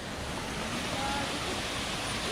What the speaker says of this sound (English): there is a waterfall on the road